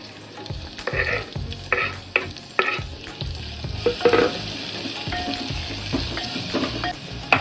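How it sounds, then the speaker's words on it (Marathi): Finely chopped onion sizzles in hot oil in a pan for spicy shev bhaji, with repeated spoon scrapes and clatters stirring at an irregular rhythm over a continuous frying hiss, close and fairly loud. "आता हा कांदा आपण छान लाल करून घेऊया"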